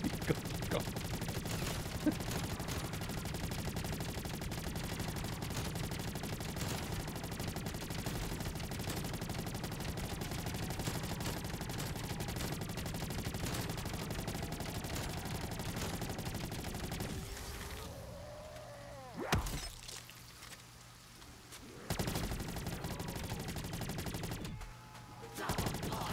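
Rapid bursts of gunfire in Black Ops 3 Zombies on the custom Kowloon map, dense and continuous for most of the stretch, then thinning to a few isolated shots amid quieter game ambience.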